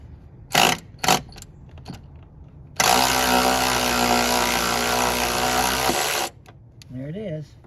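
A power gun whirs hard for about three and a half seconds, loosening a stubborn nut on the fuel and brake lines of a 2001-04 Kia Rio; a few sharp clicks come before it, and a voice follows.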